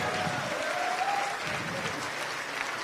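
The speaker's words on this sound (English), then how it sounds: "give a big round of applause to the delegation for the State of Oklahoma House of Representatives" An audience claps steadily for the Oklahoma House of Representatives delegation at a legislative forum, with a voice briefly heard under the applause.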